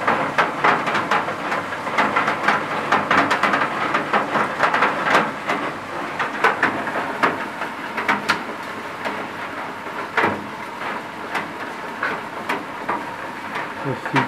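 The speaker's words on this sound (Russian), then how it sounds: "Ну, крупный град." Heavy, large hail pelts down outside an open window in Polotsk, a dense, loud, continuous clatter of impacts with sharper cracks scattered through it, and voices occasionally heard.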